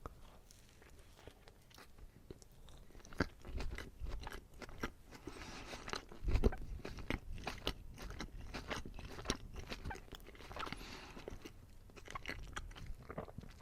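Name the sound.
chewing and crunching while tasting a HESS sandwich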